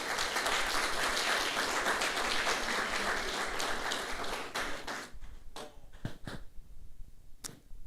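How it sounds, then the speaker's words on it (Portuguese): A church congregation applauds during an evening worship service, dense sustained clapping for about five seconds that then thins out into a few scattered, separate claps near the end. "Olha para alguém e aplaude a vida dela aí, em nome de Jesus."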